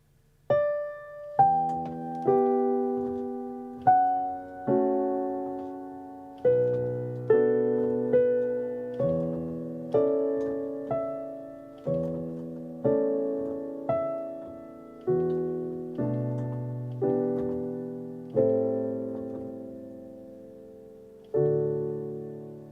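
A slow, gentle solo piano melody from Erik Satie's Gymnopédie No. 1, single notes and soft chords ringing out and decaying one after another, unhurried and quiet.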